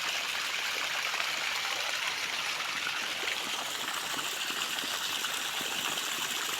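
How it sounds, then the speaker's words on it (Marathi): Irrigation water flows steadily through a pipe into a sugarcane field as part of a makeshift watering setup, making a continuous, even rushing gush with no voices and no break in the flow. "बघा पूर्ण नळ्याने सारखंच पाणी येत आहे"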